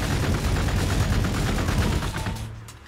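Dense, continuous gunfire from Warhammer 40k: Gladius with Space Marine units, a loud barrage of rapid overlapping shots that carries on for over two seconds before trailing off.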